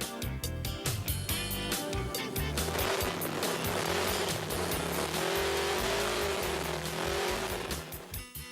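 A vintage car is driven with a loud engine and tire squeal, the drone rising and falling close by across several seconds with no talk.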